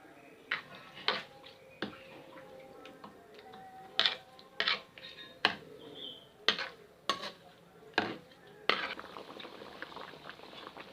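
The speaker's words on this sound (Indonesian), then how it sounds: "Kita aduk-aduk sampai mendidih biar santannya tidak pecah." Chicken pieces being stirred in coconut milk in a cooking pot for opor ayam, a series of sharp utensil clinks and scrapes against the pot every second or so over a soft bubbling background, close and without talk.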